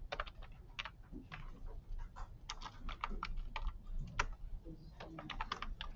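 A part name is typed on a computer keyboard: a quick, irregular run of crisp key clicks, close and clear, with short pauses between bursts and no speech.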